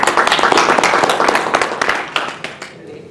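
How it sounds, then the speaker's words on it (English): Warm applause from a university lecture audience welcoming a guest speaker, with loud dense clapping that gradually thins and fades into a few scattered claps near the end. "Let us please give a warm applause of welcome to Elena Tokash."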